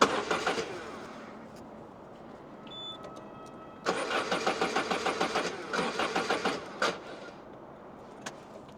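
A Citroën Berlingo van engine cranks and catches, idles roughly, then revs in a series of rhythmic bursts before settling; loud and close, with no voices.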